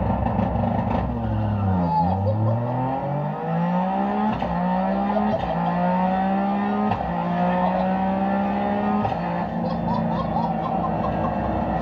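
A three-cylinder car's engine pulls hard and close, its note climbing steadily and then dropping sharply at each gear change before rising again, loud and continuous throughout.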